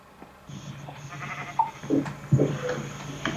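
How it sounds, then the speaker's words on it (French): Sheep bleat in short calls in a Minecraft survival game, a few cries rising over a steady background hum, moderately close and fairly clear. "Donc je vais attirer ce mouton"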